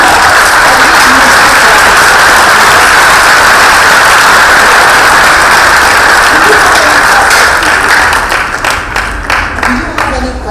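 Loud, close audience clapping at a career conference fills the room in a steady dense burst, thinning into scattered separate claps over the last couple of seconds.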